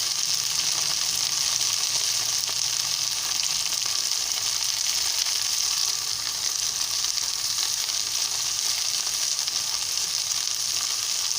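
Okra and tomato curry with turmeric and chili powder cooking in a pan while being stirred: a dense, even hiss of sizzling oil that barely changes throughout, close-up, with no talking.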